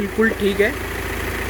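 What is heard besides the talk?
Audi Q3 engine idling after repair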